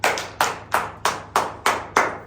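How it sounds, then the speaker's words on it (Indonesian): Hands clap in a steady, evenly spaced beat, seven sharp, close claps each ringing out briefly before the next, at a lively classroom session with no talking over them. "tepuk tangan dulu."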